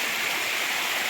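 Steady broadband rush of water flowing along a stream in the Konkan countryside during traditional crab catching, continuous and fairly close with no voices over it.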